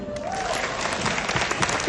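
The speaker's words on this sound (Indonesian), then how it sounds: "Tepuk tangan." Seminar audience applauding at a family business presentation, dense continuous clapping from a crowd filling the short moment at full strength.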